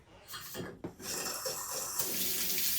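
Water gushes from a newly installed bathroom faucet into a sink with a pop-up drain, a close, steady hiss that swells louder as the flow opens fully, with no one speaking.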